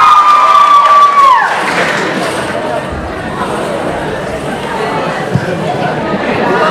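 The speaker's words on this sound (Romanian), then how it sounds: "Aplauze pentru el, vă rog." Students and families at a high school freshman ball cheer and clap after a performance, a loud crowd roar with shouting and chatter following a fading musical tone.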